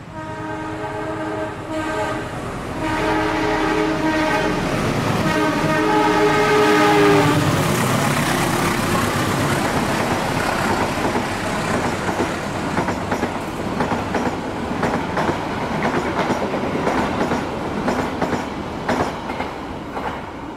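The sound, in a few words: train passing by station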